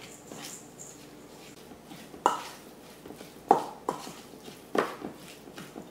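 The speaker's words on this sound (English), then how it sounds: "you want to just mix everything in" Spoon or utensil knocking and scraping in a bowl while stirring maple syrup and butter into an apple pie topping, a few sharp clinks spaced over quiet kitchen background.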